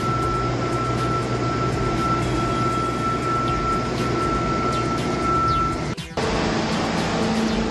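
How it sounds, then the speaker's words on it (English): A compressed-air blower blows excess broadcast sand off an industrial floor ahead of an epoxy coat, making a steady, loud hiss and roar. It runs continuously and dips briefly near the end. "now the guys are blowing off all the excess sand in preparation for the first coat of epoxy"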